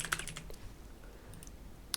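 Computer keyboard keys are tapped in a brief, quiet burst of light clicks, with a few scattered keystrokes after and one final sharp tap.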